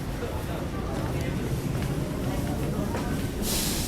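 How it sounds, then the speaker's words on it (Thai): A train sits at a station while passengers board, with a continuous broad rumble and hiss under a busy platform, and a brief louder hiss near the end. "ในการขึ้นรถไฟก็จะประมาณนี้นะครับ"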